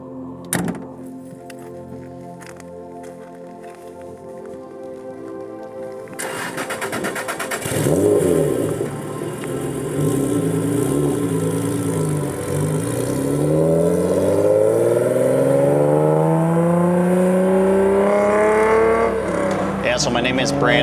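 Supercharged 1995 Acura NSX engine, a door thunk followed by the engine running and revving up in rising sweeps, loud and close, with someone speaking over it.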